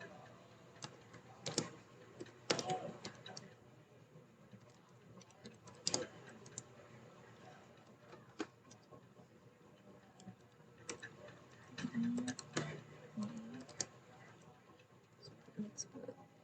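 Quick clicks and taps of a computer keyboard come in irregular bursts and pauses at close range, typing Python code, fairly quiet in the clip.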